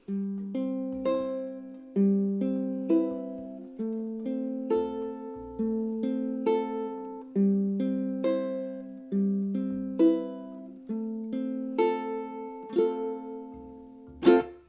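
Finger-picked ukulele playing a song, with a steady run of plucked notes and chords repeating in an even rhythm, close and clear, with no voices.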